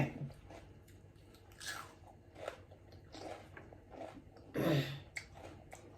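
Mussels being eaten, with irregular bites and wet chewing and crunching sounds close to the mic, scattered across a quiet room with a few louder bursts.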